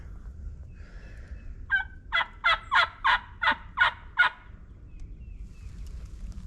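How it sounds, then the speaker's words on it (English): A wild turkey gobbles outdoors in one rapid burst of about seven or eight loud, fairly close calls, followed by quiet background with no talking. "The gobble."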